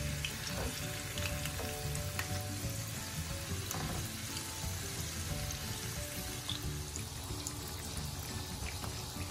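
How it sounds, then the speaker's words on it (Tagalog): Sliced potatoes frying in oil for potato adobo, giving a dense, steady sizzle with fine crackles that stays constant and close throughout, with no voices. "Ipiprito muna yung patatas."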